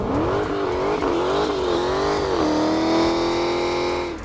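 A Dodge Challenger SRT Hellcat engine roars at high revs, close and loud, rising and wavering before settling into a sustained howl as the wheels spin up, with no talking.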